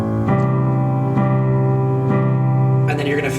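A minor 7 chord on keyboard struck three times in a steady rhythm, each chord sustaining with a low bass note beneath, followed by a brighter flurry of higher notes at the end; close and clear with no talking.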